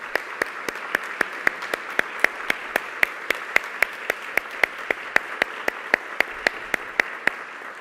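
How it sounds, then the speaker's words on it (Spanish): An audience applauds after a public dialogue event, even clapping at a steady tempo heard closely and consistently over a low background wash. "Gracias, un aplauso, por favor."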